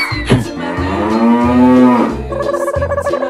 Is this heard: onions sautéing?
no